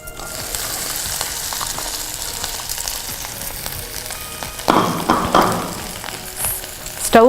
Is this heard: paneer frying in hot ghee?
yes